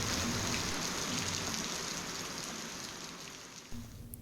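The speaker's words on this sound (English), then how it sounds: "it regularly rained whilst I was there" Steady rain falls in Bali during an unusually wet season, a dense, even hiss close by that slowly eases toward the end.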